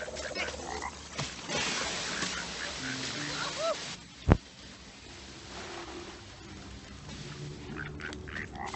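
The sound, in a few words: frog croaking during ground pound in Ice Age 2 video game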